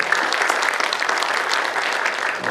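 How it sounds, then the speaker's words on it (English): Dense, steady applause from a crowd, continuous clapping with no pauses. "round of applause"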